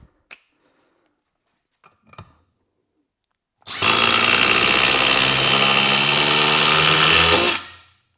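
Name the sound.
Milwaukee impact driver driving a screw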